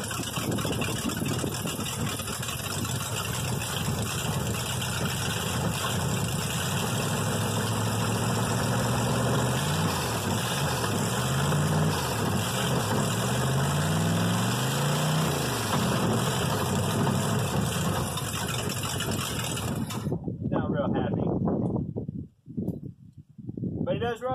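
A Chevrolet squarebody truck engine idles on its own after a cold start in chilly weather, a loud steady rumble with slight lopey pulsing that cuts off abruptly near the end.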